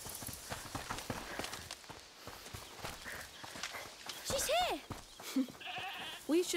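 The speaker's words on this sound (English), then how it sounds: "Goats." Goats bleat in A Plague Tale: Requiem, several wavering cries near the end over footsteps and hoof clatter, with voices talking in the background.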